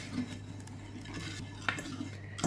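Chocolate chips stirred into a dry hot chocolate mix, a soft continuous scraping and rustle of a spoon in a bowl with a faint clink near the end, quiet over a low steady hum.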